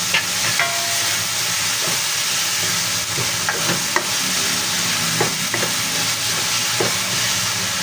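Alamang shrimp paste (bagoong) fries in a pan for chicken Bicol Express, a steady loud sizzle with occasional stirring scrapes throughout, no voices.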